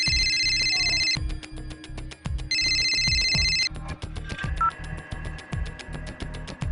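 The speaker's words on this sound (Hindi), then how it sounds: "तो फोन आया है।" A telephone rings in a home with a repeated electronic ringtone, loud and close, in two bursts with pauses, over a steady rhythmic beat of background music.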